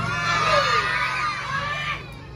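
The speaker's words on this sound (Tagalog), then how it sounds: "Wala po bang sigawan dyan?" A crowd at a Miss Gay pageant in San Isidro, Masantol, Pampanga shouts and cheers loudly, children's shrill voices prominent, a sustained roar that fades slightly near the end.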